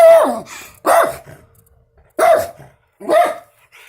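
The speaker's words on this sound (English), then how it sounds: "Alert dog on patrol." Dog on alert barking outdoors in a garden, four sharp, loud, close barks in an uneven rhythm with short silent gaps between them.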